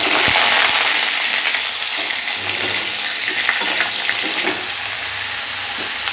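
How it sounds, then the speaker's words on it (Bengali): Cauliflower and potato frying together in plenty of oil: a loud, continuous close sizzle with occasional stirring clinks and scrapes, and no voices. "ফুলকপি আর আলুটা একসাথেই দিয়ে দিলাম, কারণ বেশ অনেকটা তেল দিয়েছি তো"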